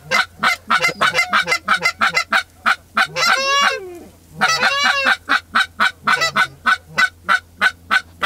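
Close, loud geese flying in honk in a rapid, steady rhythm on a waterfowl hunt at Walpole Island, broken midway by a few longer drawn-out calls, with no talking.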